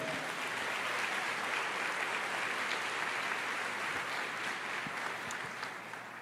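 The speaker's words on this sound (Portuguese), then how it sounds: "Você pode aplaudir o Senhor." A church congregation applauding, steady dense clapping throughout, loud and continuous without talk.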